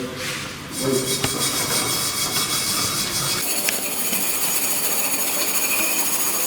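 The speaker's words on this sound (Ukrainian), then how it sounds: "Зачистка механічною щиточкою е, ржавої пластини." A motorized wire brush scours a rusty steel plate being prepared for arc-welding practice, giving a steady, loud, gritty rasping hiss that starts after a brief pause and runs continuously to the end, its tone shifting partway through.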